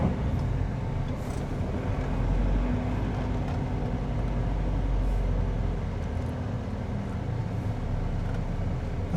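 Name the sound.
truck moving in traffic on the road to Malang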